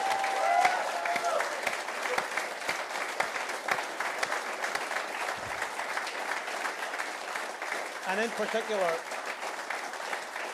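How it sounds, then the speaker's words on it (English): Crowd cheering and applauding through a speech by someone in Scotland, a steady dense wash of clapping held throughout, with a brief spoken phrase near the start. "So a big cheer for our Scottish Labour MPs."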